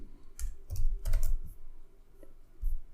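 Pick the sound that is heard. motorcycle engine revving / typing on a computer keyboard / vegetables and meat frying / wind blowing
typing on a computer keyboard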